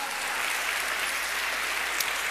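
A church congregation claps in praise of the Lord during a Spanish-language sermon, a dense, steady roar of applause filling the room without letup.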